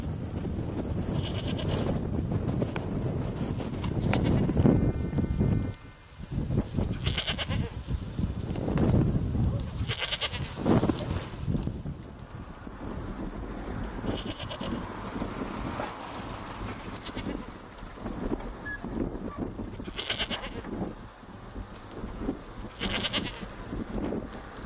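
Goats bleat repeatedly in an Exmoor valley near Lynton and Lynmouth, loud calls rising over strong wind buffeting the microphone, with a short lull partway through.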